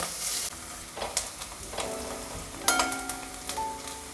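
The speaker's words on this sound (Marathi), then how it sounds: "आता हे आपण थोडं बाजूला घेऊयात आणि कांदा टाकून घेऊयात." Chopped onion fries in a pan with crushed garlic and ginger for a chickpea usal curry. Steady close sizzling is broken by irregular clinks and scrapes of stirring, with no talking.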